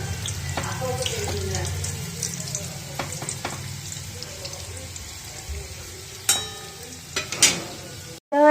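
Chicken pakoras fry in hot oil with a continuous bubbling sizzle, joined by scattered clinks and scrapes of turning that grow sharper toward the end.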